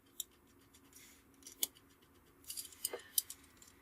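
Scissors snip along marked lines while the sides of a North Pole construction are cut out, giving a few quiet, close, crisp cuts that cluster toward the end, with no talking.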